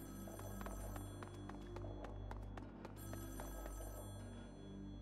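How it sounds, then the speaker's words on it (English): An old-timey telephone rings in the Splatoon 2 subway, with repeated bell-like pulses over a steady hum and tonal game background at low volume. "Oh, it's like one of those old-timey telephones."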